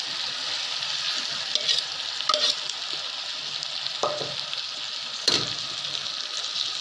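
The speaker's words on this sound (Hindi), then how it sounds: "अब हम इनमें भिंडियाँ डालेंगे" Okra sizzling steadily as it fries in a hot pan, with a few louder scrapes and clatters from stirring.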